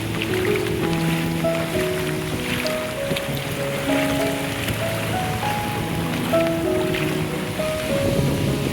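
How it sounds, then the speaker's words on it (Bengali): Heavy monsoon rain at the seashore at Taalsari, a steady dense hiss with a low surf-like roar underneath and faint tonal hums, continuous and fairly even throughout. "প্রচুর বৃষ্টি হচ্ছে"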